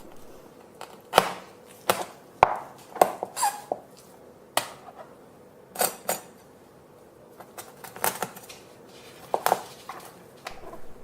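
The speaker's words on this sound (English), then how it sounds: "You can cut this into smaller pieces by cutting between the discs." A knife cuts a salmon backbone into pieces between the vertebral discs, giving a string of sharp, close knocks and snaps at an irregular pace, with no talking.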